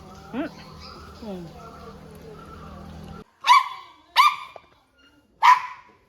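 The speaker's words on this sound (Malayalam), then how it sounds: "ഇത് നമ്മുടെ അടുത്ത ആൻറ്റി ശീലാൻറ്റിയുടെ പട്ടിയാണ്" A dog whimpers softly, then lets out three loud, sharp barks with short pauses between them, close by.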